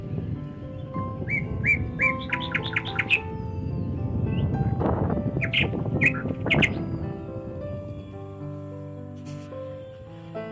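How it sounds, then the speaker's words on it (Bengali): Birds returning home at dusk, chirping and whistling in quick clusters over a dense, rumbling background hum, fairly close, the calls thinning out toward the end. "হ্যাঁ, পাখিগুলো বাড়ি ফিরে যাচ্ছে"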